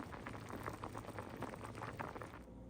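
Water bubbling steadily at a rolling boil in a pot of cauliflower, soft and close, with no voices.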